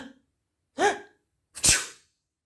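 A storyteller voices an old man's sneeze for a children's bedtime story: a short breath, a rising "ah" intake, then a sharp, close, burst-like sneeze, imitated by a human voice.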